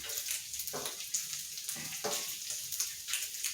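Bacon sizzles on a hot flat-top griddle beside smash burgers, a steady close crackle with bursts of spitting fat and no voices.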